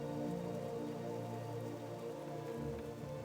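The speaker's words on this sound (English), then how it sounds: "You awake to the steady sound of rain." Steady rain falls without thunder, a soft, even patter on surfaces that holds constant at low volume with no voices.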